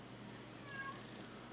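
A house cat gives a single short, quiet meow in a calm indoor room.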